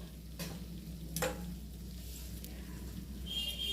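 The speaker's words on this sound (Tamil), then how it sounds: "அப்படியே முட்டையை பரட்டி விட்டு" Egg gravy with capsicum stirred in a pan, a soft steady sizzle broken by a couple of sharp scraping strokes.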